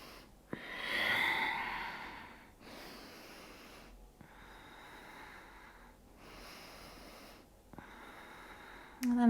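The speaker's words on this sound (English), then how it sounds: "Deep breath here." Slow, deep breaths during a beginner vinyasa yoga flow, with long audible inhales and exhales separated by quiet pauses, close and soft with a few faint clicks.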